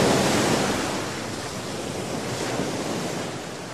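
Pacific Ocean waves break and wash steadily onto a beach, a dense, continuous roar of surf with wind, loud and close, no voices.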